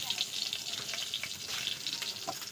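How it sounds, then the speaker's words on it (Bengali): Three bay leaves frying in hot oil in a wok crackle in a soft, close sizzle with light irregular pops, fairly quiet throughout. "তেলে 3টে তেজপাতা দিয়ে দিলাম"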